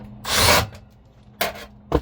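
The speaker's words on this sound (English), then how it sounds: "Need to get a new drill, their impact or whatever. I finally worn this one out." A worn-out impact driver with perished rubber and an overly touchy trigger, used while rewiring a walk-in freezer, gives a loud half-second burst followed by two shorter bursts, with no talking.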